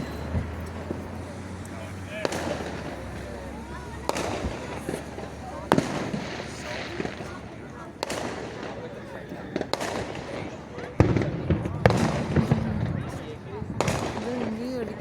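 Independence Day fireworks burst over Washington DC on July 4th, 2024, a string of sharp booms and crackles at irregular intervals, some near and some distant, while people talk excitedly between the blasts.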